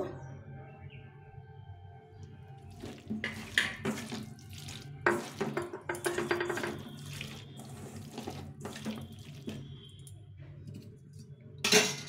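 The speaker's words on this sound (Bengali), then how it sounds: "এখন এই মশলা বাটিটা ধুয়ে জল দিয়ে দেবো।" Water runs from a tap over a spice bowl being washed in a sink, with splashing bursts and clinks of the bowl against metal, fairly quiet and close.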